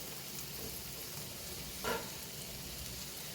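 Mushrooms frying in a pan over medium-high heat on the stove give a steady, even sizzle throughout, broken only by one brief louder stirring scrape near the middle, with no talking.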